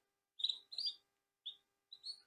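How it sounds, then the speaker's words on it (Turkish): A canary sings alone in short bright bursts of warbling and trilling notes, four phrases separated by brief pauses. "Burada da bir tane razamız var. Güzel bülbüllü ötüyor."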